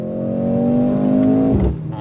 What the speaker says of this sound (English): except for that freaking intake sound. I mean, it's loud.